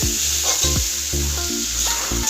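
Fish head and spices fry together in a pan, a steady loud sizzle broken by rhythmic scraping strokes about every half second as the mixture is worked around, with no voices.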